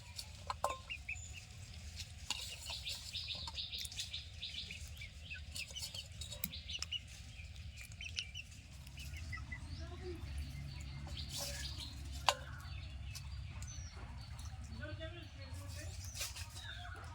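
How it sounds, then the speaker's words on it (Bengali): Hens cluck and chirp intermittently over a steady low rumble, fairly close, with brief clatters and a voice now and then in the background. "মুরগিগুলো সব এখানে চলে এসছে"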